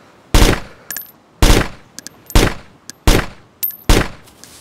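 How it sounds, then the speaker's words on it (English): Gunfire in the DayZ Standalone video game: six loud, sharp shots in a steady series roughly a second apart, each with a short echoing tail and small clicks between, with no talking. "I saw you shooting at him."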